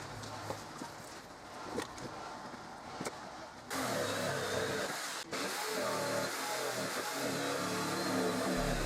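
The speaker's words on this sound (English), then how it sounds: "and then cut out a piece with the jigsaw." A jigsaw cuts pallet wood for a shed, its steady buzzing drone starting a few seconds in and running loud and unbroken to the end, after a quieter stretch of faint knocks and handling.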